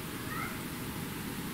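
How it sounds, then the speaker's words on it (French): A house cat meows faintly in the background at 3:30 in the morning, a brief thin call rising over a steady low hum in an otherwise quiet room. "On entend mon chat miauler derrière."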